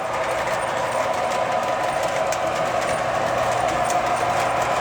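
An MTH Big Boy model locomotive runs steadily on a large home layout, giving a continuous mechanical rumble and whir at even loudness with no talk over it.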